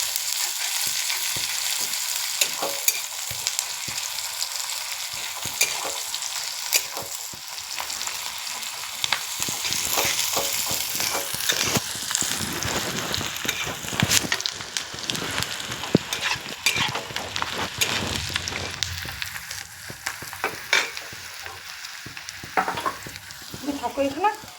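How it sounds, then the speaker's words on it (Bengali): Onions fry in a pan until reddish, a constant hissing sizzle close by, broken by frequent scrapes and clinks of stirring. "এদিকে আমি পেঁয়াজটা একটু লাল করে ভেজে নিই"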